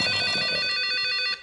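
An incoming call rings on a phone, a bright, rapidly pulsing electronic ringtone playing loud and close on its own, then cutting off near the end.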